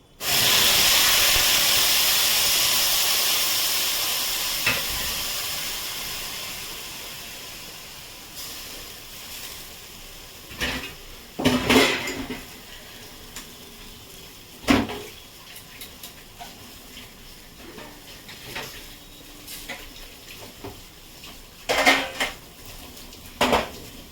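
Onion paste hitting hot oil in a pan over a high gas flame, opening with a loud hiss that fades, followed by scattered clinks and scrapes of a utensil against the pan.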